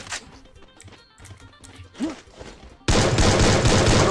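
Gunfire in the video game Free Fire: a sudden loud, dense burst of shots starts partway through and keeps going, after quieter game sounds and a short tonal effect.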